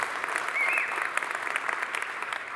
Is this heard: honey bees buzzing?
no